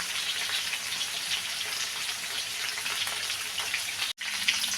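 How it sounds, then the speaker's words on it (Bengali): Cauliflower fries in hot oil in a pan as it is stirred to brown, giving a dense, even, hissing sizzle up close that runs almost unbroken apart from one brief dropout. "এবার ফুলকপি দিয়ে দিলাম, নেড়ে ছেড়ে ভালোভাবে লাল লাল করে কষিয়ে নিব।"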